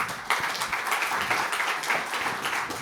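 An audience at a communications summit applauds, a thick, even wash of many hands clapping together, sustained and fairly loud with no speech over it.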